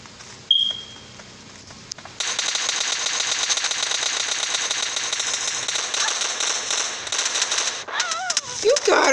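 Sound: grenade explosions and gunfire in PUBG Mobile video game

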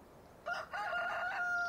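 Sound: rooster crowing in video game Farming Simulator 15

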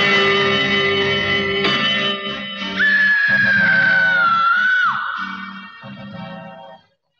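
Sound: a girl's terrifying scream

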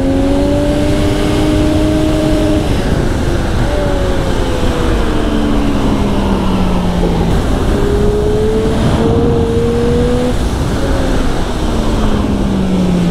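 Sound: 2020 Triumph Street Triple RS motorcycle riding on track

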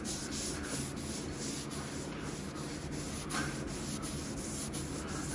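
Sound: rubbing duct tape residue off car panel with rag

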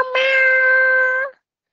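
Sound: cat meowing

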